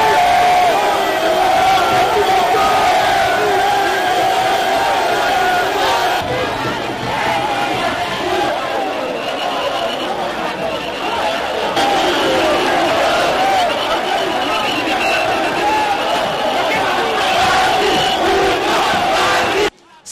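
A dense, loud crowd at a political rally for President Tshisekedi in Gemena cheers and shouts steadily throughout, a continuous roar of many voices that cuts off abruptly at the end.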